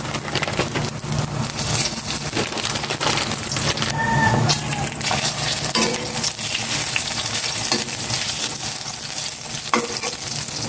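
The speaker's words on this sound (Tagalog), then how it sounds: "Mainit na ang mantika. Ilagay ko na ito. Luncheon meat." Luncheon meat frying in hot oil, a steady loud sizzle and crackle running throughout with occasional stirring scrapes, no talking.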